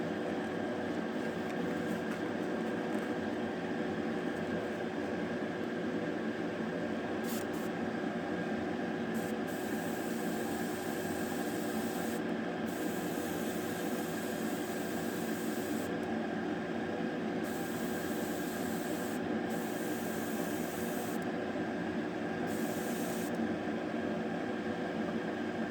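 Steady, close aerosol spray hissing continuously as a light second coat of paint is dusted onto model kit parts, with brief gaps where the nozzle releases, no talking.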